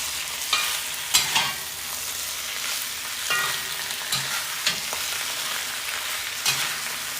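Corned beef frying in a hot cast iron pan for a stir fry hash, giving a steady close sizzle broken by several sharp scrapes and clatters as it is stirred.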